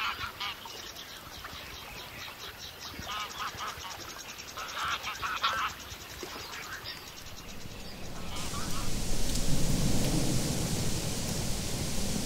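Rain falling outdoors swells into a steady, broad hiss that grows louder in the second half. Earlier, geese honk and a low rumble of thunder sounds in the background.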